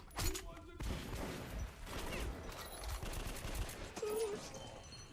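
Gunfire in the shooter Metro Last Light Redux, a quiet, rapid series of shots and bursts spread across the clip, with a voice likely present.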